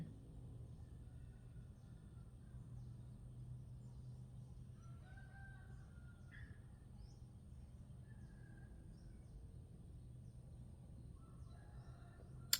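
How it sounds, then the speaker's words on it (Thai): A rooster crows faintly and at a distance, with a few drawn-out calls over a steady low background hum at a rural garden home. "เบิ่งฟังเสียงไก่อันขัน"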